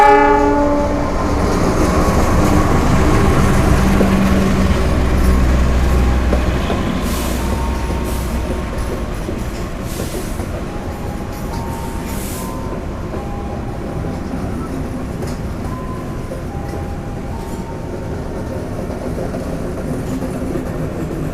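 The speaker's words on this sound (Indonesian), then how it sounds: "kereta api Sembrani tambahan akan segera tiba di stasiun Surabaya Pasar Turi" A Sembrani passenger train arrives at Surabaya Pasar Turi station with heavy low rumble, clattering wheels and a horn, loud at first and then easing to a steadier rolling din.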